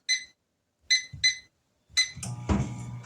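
Microwave keypad beeps as the timer is set for four minutes in a home kitchen: a few sharp electronic tones, two close together, then a final beep followed by rustling and the oven starting up.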